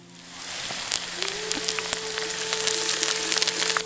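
Curry leaves drop into hot groundnut oil and crackle, a dense sizzle with sharp spattering pops that builds after a quiet start, close and steady, no talk.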